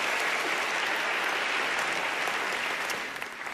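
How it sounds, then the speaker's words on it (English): Loud, dense applause from an audience at a Singapore speaking event fills the room continuously, tapering slightly at the end. "I get a round of applause for that."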